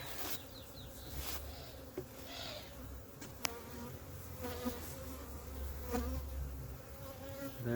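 Honeybees buzz around an opened hive during a split inspection on a cool spring day, a steady dense drone of many insects close by with occasional louder passes and faint clicks, no voices.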